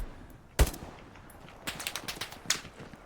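Machine gun fire in the WWII shooter Hell Let Loose during trench fighting, one sharp shot followed later by a quick string of bursts, moderately loud with quieter background between.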